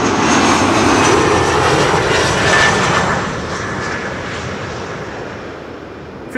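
An airliner lands on Runway 06, the Kaagbaan, at Amsterdam Schiphol, a loud, close roar of aircraft engines that eases slightly as it passes, with a faint whine in the steady rush.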